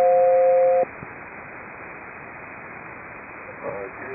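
An aircraft SELCAL selective calling tone over an HF radio channel, a steady two-note tone held for under a second, then cutting to hissing radio static with faint distant voice fragments.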